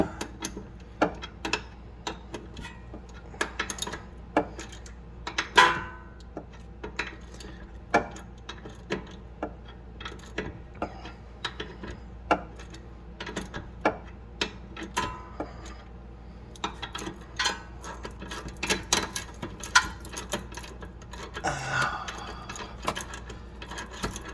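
A worn ratchet wrench clicking while rear coilovers are installed on a G35, giving irregular bursts of sharp ticks with short pauses and occasional louder clanks from nearby, with no talking.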